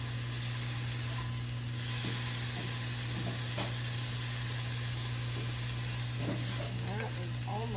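A mandarin teriyaki chicken stir fry sizzles softly in the pan while a rubber spatula stirs it now and then, over a steady background hum, with faint talk in places.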